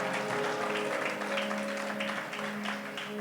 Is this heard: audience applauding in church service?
yes